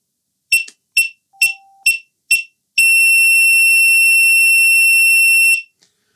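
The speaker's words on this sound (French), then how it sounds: "J'attends la fin de la série de bips très courts, jusqu'à temps qu'elle bip en permanence." A Begode RS HT electric unicycle emits five short, evenly spaced high beeps during a firmware update, then a single loud continuous tone that holds for about three seconds before cutting off.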